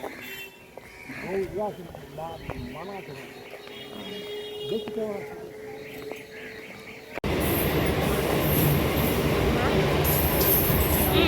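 Train at Inmotor railway station: a loud, dense rush of rolling train noise bursts in and fills the second half, after a stretch of people talking near the platform.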